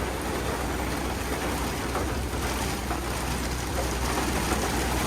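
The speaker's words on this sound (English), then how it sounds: "Absolutely pouring, and with some hail." Heavy rain pounds down in a dense, steady roar with hail mixed in at a dirt racing speedway, continuous and loud throughout with no voices.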